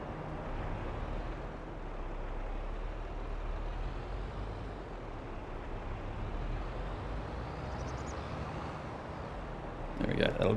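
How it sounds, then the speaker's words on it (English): A truck from Farming Simulator 22 moving a header trailer gives a steady, loud engine drone with low rumble throughout, ending in a brief louder clatter. "Move this header trailer out of the way."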